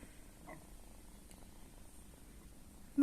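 A small kitten purrs softly and steadily up close in a quiet room, a low continuous rumble with a louder bump right at the end.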